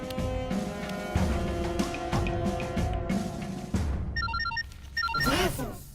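A telephone rings in a Bhojpuri film scene: short bursts of high electronic trilling tones come near the end, over loud background music.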